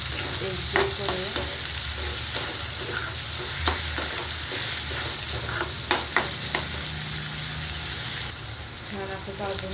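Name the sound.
onion tomato masala frying in oil, stirred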